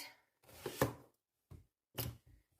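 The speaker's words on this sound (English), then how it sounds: "Chop off the stem end." A knife chopping the stem end off a zucchini on a cutting board, a few close, distinct cutting thuds at irregular intervals with quiet gaps between them.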